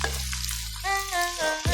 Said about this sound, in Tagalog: lagay na natin yung ating kamatis.